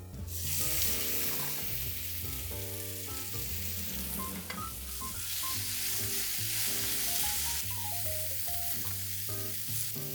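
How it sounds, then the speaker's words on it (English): Sliced ribeye beef sizzles with garlic in a pan, a steady loud frying hiss with light stirring noises, playing under continuous background music. "And beef goes back in with the garlic."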